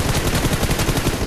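Pistol fire in a shooter video game, a rapid loud burst of shots following close together with no pause.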